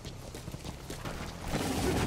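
Horse hooves clip-clop in a steady rhythm, close and moderately loud, from the stealth game Metal Gear Solid V: The Phantom Pain, with the pace picking up toward the end.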